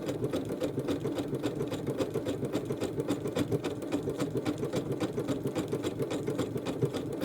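A sewing machine runs steadily while stitching a decorative heart stitch pattern, its fast needle clatter pulsing in an even rapid rhythm, close and continuous with no voices.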